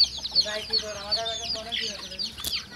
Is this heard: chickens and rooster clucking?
yes